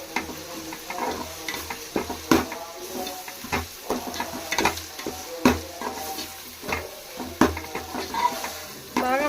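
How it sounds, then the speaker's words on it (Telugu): Ginger garlic paste frying in oil while being stirred, a crackling sizzle broken by repeated sharp scrapes and taps of a spoon against the pan, close and fairly loud, no voices. "ఈ అల్లం వెల్లుల్లి పేస్ట్ బాగా ఫ్రై అవ్వాలా."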